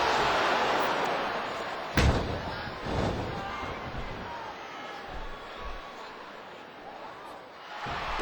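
A capacity WWE wrestling arena crowd rumbles and swells, punctuated by a few sharp thuds and slams, with the noise rising and falling over several seconds.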